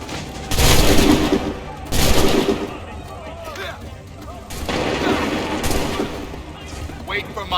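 Musket volleys boom in an Assassin's Creed 3 battle scene, two loud rolling bursts of gunfire followed by a longer ragged volley, with shouted orders and voices between the shots.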